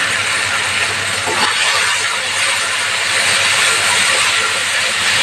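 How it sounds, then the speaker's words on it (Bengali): Spices spattering in hot oil, a loud dense continuous hiss with crackle, close and steady throughout. "ছিটকাচ্ছে তো মশলাটা"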